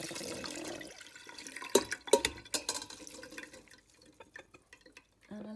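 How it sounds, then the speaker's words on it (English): Sea buckthorn juice poured from a large pot through a fine sieve: close splashes and irregular drips patter for a few seconds and then thin out to sparse drops, with a short clatter at the end. "I've got a really fine sieve, as you can see, and let's put it all through."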